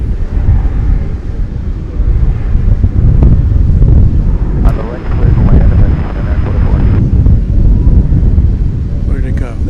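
An American Airlines jet departs DFW Airport with a loud, continuous low roar mixed with heavy wind buffeting on the microphone, steady for several seconds.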